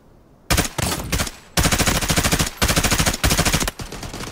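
Automatic gunfire in the video game Hazard Operations, loud close bursts of rapid rattling shots, four sustained strings separated by brief pauses, with no talk over them.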